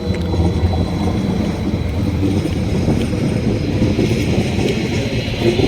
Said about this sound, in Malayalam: ട്രെയിൻ തിരിച്ചു പോവാണ്